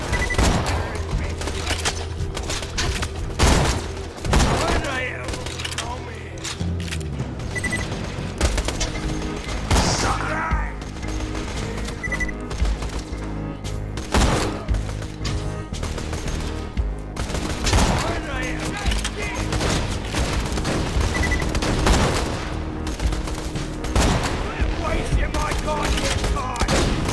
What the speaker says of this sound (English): explosions coming from the lighthouse.